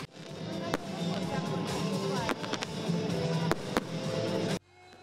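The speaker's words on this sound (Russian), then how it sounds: "небо над дворцом спорта озарило множество огней салютных залпов" Fireworks salute bursting over a sports palace at a graduation ball, a dense continuous crackle with several sharp loud bangs, then abruptly dropping away near the end, with voices mixed in.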